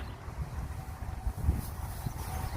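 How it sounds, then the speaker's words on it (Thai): Wind gusts across a vegetable garden of lettuce, kohlrabi and cabbage, a soft, low buffeting rumble that rises and falls steadily against the microphone, with no voices. "ลมพัดวอยวอยไม่แดดจ้ะ"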